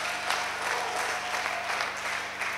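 A church congregation claps loudly and continuously in praise, a dense sustained burst of applause with no voices on top.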